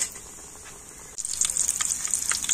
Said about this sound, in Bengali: 2টো করে পিঠে দিয়ে আমি ভেজে নেব